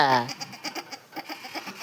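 A goat gives one short, clear bleat at the start, followed by soft scattered tapping and shuffling sounds close by.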